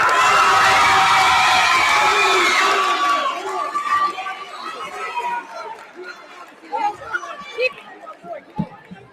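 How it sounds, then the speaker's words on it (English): A crowd at a high school culminating event cheers and whoops loudly with shouts and chatter, the roar fading after a few seconds into scattered voices and claps. "Give another round of applause, ladies and gentlemen."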